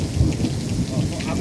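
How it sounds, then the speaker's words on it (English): A thunderstorm with steady rain outdoors, a dense low rumble of thunder rolling under the constant hiss of rainfall, close and fairly loud throughout with no pause. "I love thunderstorms, I do."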